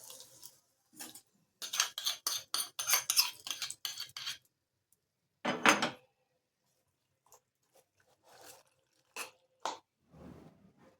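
Curd poha being mixed with a spoon, a wet squelching in quick repeated bursts that is dense for the first few seconds and then comes as sparse, softer scrapes and squishes.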